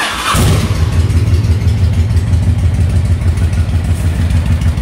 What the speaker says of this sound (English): here's how we're going to sound once we get it idled down